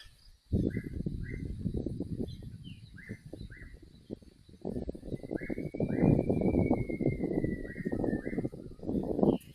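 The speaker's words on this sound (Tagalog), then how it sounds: "Ang daming ibon na umuhuni." Many birds chirp at dawn in rural Bataan just after the rain stops, with scattered short calls and a longer sliding whistle heard over a loud, rough rustling rumble nearby.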